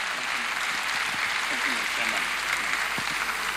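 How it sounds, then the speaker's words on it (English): A large crowd at a graduation ceremony claps steadily and continuously, a dense even wash of applause with voices talking underneath. "Keep clapping your hands."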